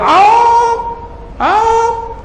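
A human voice mimics a cat meowing twice, two separate whiny meows spaced about a second apart, close and fairly loud.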